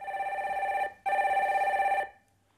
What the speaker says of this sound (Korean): 첫 번째 전화 연결 해주세요.